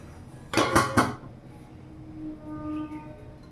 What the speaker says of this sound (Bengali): দেখো কত স্টিমটা আমি কড়াটা নামিয়ে দেখাচ্ছি